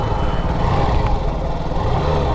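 Hero Glamour Xtec 125 BS6 motorcycle engine running close up, a loud steady mid-pitched drone with a slight rise in revs, no talk over it.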